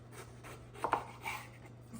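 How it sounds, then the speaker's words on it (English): Knife cutting eggplant into thin strips on a board, a few soft quiet slicing strokes with two sharper taps near the middle over a low steady hum. "I'm just going to be slicing up the eggplant"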